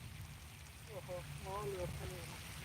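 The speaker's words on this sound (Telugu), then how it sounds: "ఇక్కడ అయితే వర్షం స్టార్ట్ అయింది అనమాట చూడండి మీరు ఒకసారి ఇదిగో ఫుల్గా వస్తుంది వర్షం" Heavy rain pours outdoors during a fishing outing, a steady broadband hiss running through the whole stretch while a voice speaks over it.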